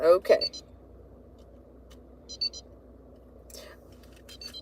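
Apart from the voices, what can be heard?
electronic beeping from a pressed button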